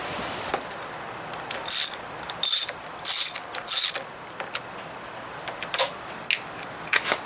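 A ratchet turns a spark plug socket on a 1987 Johnson 40 hp outboard, giving several short bursts of close metallic clicking in uneven strokes, with brief pauses and no talk.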